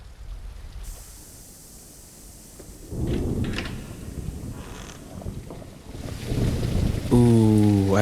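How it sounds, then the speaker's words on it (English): Thunder rumbles in a stormy nighttime scene in the indie horror game The Lightkeeper, swelling in low booming waves over steady rain hiss, with a final heavy crack near the end. "You see the lightning before the thunder?"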